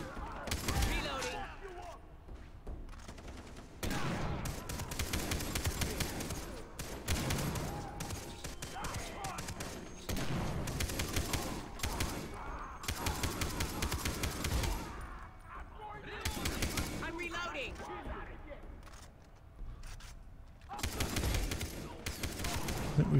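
Sniper shots and heavy gunfire from a Far Cry 3 co-op battle crack out in repeated loud bursts and volleys throughout, with voices talking over the fighting.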